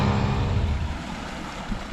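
A small motorboat with an engine that isn't running right moves across the water, giving a loud, rushing wash of water and wind that eases slightly partway through.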